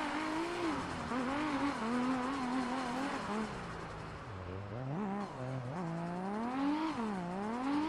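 A 2JZ-swapped Lamborghini drift car in a racing video game revs hard in fifth gear, its engine note rising and falling continuously with wavering pitch sweeps, loud and close throughout with tire noise underneath.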